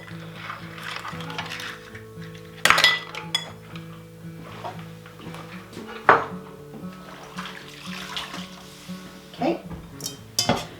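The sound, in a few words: four eggs being added to a bowl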